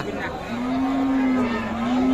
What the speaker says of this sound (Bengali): দেখছেন শাহিওয়াল সিন্ধি গাভী, সেই সাথে ক্রস শাহিওয়ালের একটা বকনা বাচ্চা, ষাঁড় বাচ্চা।